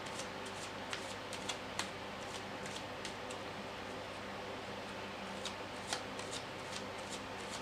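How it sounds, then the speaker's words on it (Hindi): Tarot cards are shuffled steadily close by, giving a soft continuous riffling with light flicks and taps over a quiet hiss, and nobody speaks. "मैंने अपने कार्ड्स को जो है शफल कर रही हूँ।"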